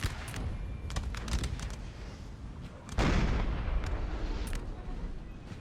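Musket volleys and artillery booms from a Napoleon: Total War battle, a steady crackle of distant gunfire with sharp reports and a heavy swell of louder firing near the middle, under faint talk.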